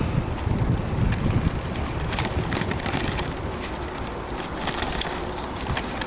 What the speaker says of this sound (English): It's a bit windy, partly cloudy, mainly sunny.